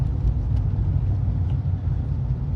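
A car on a road passes in the opposite lane while the recording vehicle drives through, heard as a steady low engine and tyre rumble close by with no talk.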